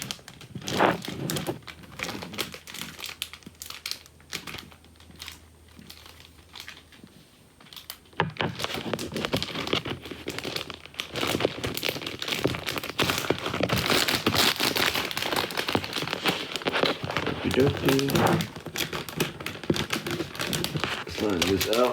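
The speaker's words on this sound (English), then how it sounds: "I'm actually gonna get the plastic out right now as well." Crinkling plastic wrap pulled off Demon Slayer merchandise, a crackly rustle that grows louder and steadier in the second half, close by, with a voice speaking over parts of it.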